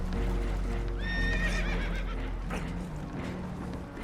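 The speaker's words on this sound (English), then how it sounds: "Horses are spooked, and we're taking on water." Spooked horses neighing loudly in Red Dead Redemption 2 aboard a boat taking on water, a rising whinny cutting through a low rumble with hoof clatter, followed by fainter nervous snorts; no talk.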